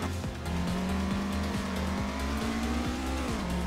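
Drifting car in the racing game Assetto Corsa, a steady loud engine drone with a sustained tire squeal sliding through a corner, carried without a break for several seconds.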